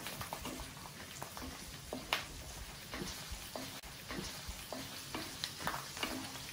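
Garlic, three full pods, frying in ghee and oil in a pan, a steady sizzle with occasional stirring clicks and scrapes throughout.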